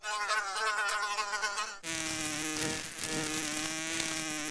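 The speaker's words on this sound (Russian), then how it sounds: "И это... муха!" A cartoon fly gives a loud, continuous buzzing drone that shifts pitch partway through and keeps going without a break.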